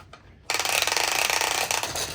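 A Mattel Cars Piston Cup toy track's ratchet crank is wound, starting after a brief quiet moment as a fast, loud run of plastic clicks that continues steadily to the end.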